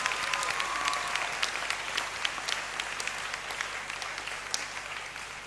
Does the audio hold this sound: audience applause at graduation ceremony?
yes